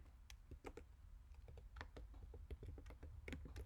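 Quiet keystrokes tap out on a computer keyboard while someone types a command into Maple, irregular bursts of close clicks with short pauses between them, no talking.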